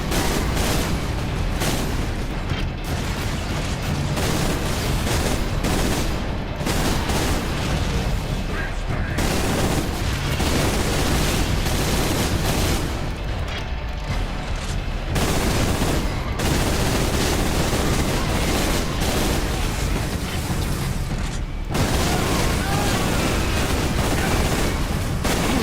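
Bolter burst fire rattles continuously in Warhammer 40k Space Marine, dense loud gunfire and booming impacts layered with battle noise over a long stretch, with only brief dips between bursts.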